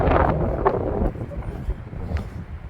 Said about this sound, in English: It's a wee bit windy because we're on the coast.